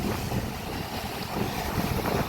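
Gusty wind on the coastal Camino path from Fisterra to Muxia rushes across the microphone, a soft continuous buffeting that rises and falls, with no voices.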